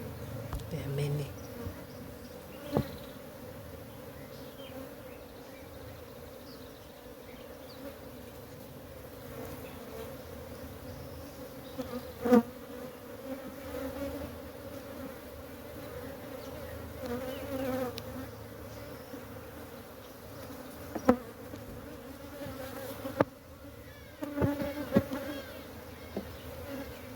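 Many honey bees hum steadily inside an open hive box during swarm-prevention work, a dense, even drone with occasional louder buzzes as individual bees pass close.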